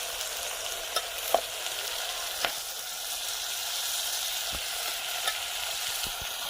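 Crab with masala, turmeric, salt and garam masala frying in a pan, a steady hiss of sizzling oil broken by a few faint clinks and stirring taps, with no voices.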